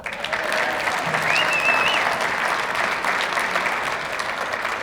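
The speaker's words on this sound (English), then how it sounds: "All right, everybody give a round of applause for Janelle." Audience applause at a USTA Midwest Hall of Fame awards ceremony, a steady wash of clapping from a full room lasting the whole stretch at even loudness, with no talking over it.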